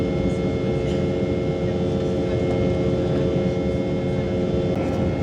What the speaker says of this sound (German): Also die Embraer-Triebwerke sind gar nicht mal so laut.